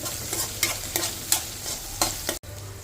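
Anchovy fish stir-fry cooking in a pan over a medium flame, giving a steady close sizzle with rhythmic scraping strokes of a spatula about every half second.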